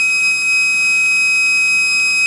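A loud, steady electronic methane gas alarm buzzer, triggered by an MQ4 sensor reading, sounds continuously with a piercing high-pitched tone and a faint rapid pulsing, no voices present.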